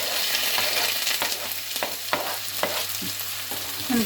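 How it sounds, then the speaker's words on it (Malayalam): Garlic, then chopped onion, sizzling in a hot pan for a Kerala pork and raw banana dish, with a steady close crackle and a few sharp stirring scrapes at irregular intervals, no voices. "നമുക്ക് നമ്മൾ എടുത്തു വെച്ച ഗാർലിക്കിന് ആഡ് ചെയ്ത് കൊടുക്കാം അത് കഴിഞ്ഞിട്ട് ചോപ്പ് ചെയ്ത് വെച്ച ഒന്നിയൻ"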